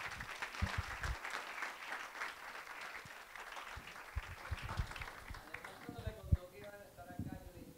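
A crowd applauds with dense clapping, fairly faint and distant, while a voice speaks over it toward the end.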